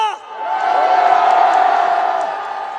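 A rally crowd roars and cheers in a sustained loud wash of massed voices, with whoops rising above the din throughout.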